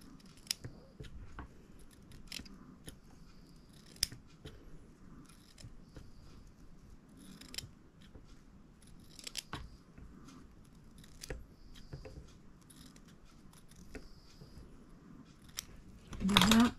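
Scissors snip through a ribbon for decorating a small straw hat, giving a long run of crisp, close clicking cuts at an uneven pace with light rustling between them.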